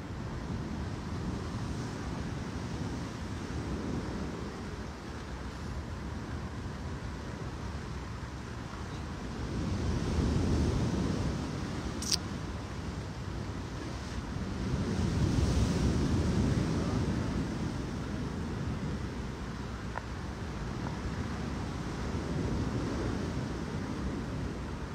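Sea waves wash ashore under steady wind buffeting the microphone, with the surf swelling louder in two long surges midway through.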